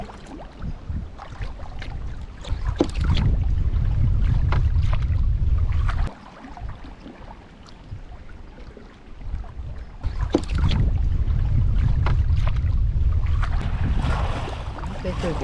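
Canoe paddles dip and pull on a river in bursts of watery splashing and swishing, two long stretches of strokes separated by quieter pauses, with wind rushing past the microphone.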